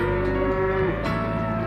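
A single long, loud cow moo sounds close by in a cattle yard on an outback cattle station, a steady low call with no voices over it.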